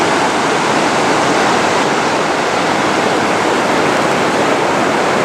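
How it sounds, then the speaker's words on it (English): Loud, steady rush of river water where two rivers meet on the Rio Grande del Norte, a continuous broadband roar with no pauses, close by and unbroken, with no voices. "Now we're at the pointy end of the two rivers where they come together."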